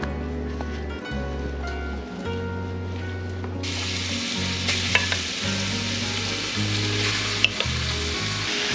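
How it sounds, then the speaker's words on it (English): Pork pieces fry in a pan for pork stroganoff with a steady, loud sizzle that grows brighter partway through, with faint stirring clicks and background music underneath. "Our pork is still cooking and our water is now boiling"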